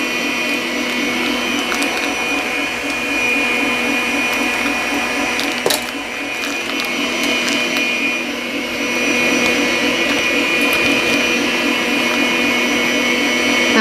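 An electric stand mixer whips body butter in a steady, loud, unbroken motor whine with a rhythmic churning pulse, running alone with one brief clack midway.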